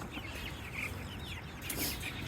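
Meat chickens clucking softly in a pen, several low, faint calls overlapping in a busy murmur with light background noise.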